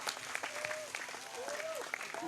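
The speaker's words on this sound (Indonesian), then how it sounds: "Tepuk tangan dulu dong." Audience at a religious lecture in Indramayu breaks into applause, a steady wash of clapping heard moderately far off with a voice talking over it.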